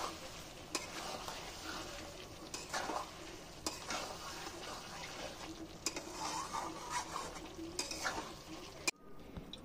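Mutton with curd sautéing and being stirred in hot oil for a homemade Bengali curry, a steady close sizzle with repeated scraping stirs and spoon knocks against the pot, then a brief pause near the end.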